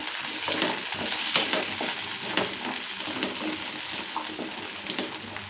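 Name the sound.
chopped tomatoes sautéing in a pan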